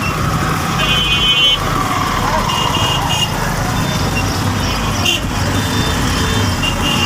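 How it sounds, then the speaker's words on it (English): Dense road traffic in a jam with many kinds of vehicles, including vans, wooden carts and CNG three-wheelers, a continuous loud engine rumble with scattered horn toots and beeps throughout. "there's every kind of vehicle here"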